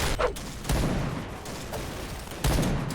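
Bursts of gunfire from the video game PB: a few sharp shots and short volleys, moderately loud, spaced irregularly over a steady background rumble.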